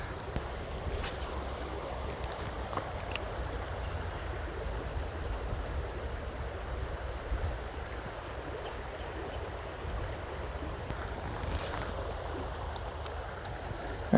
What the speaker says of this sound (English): And this water's moving pretty fast.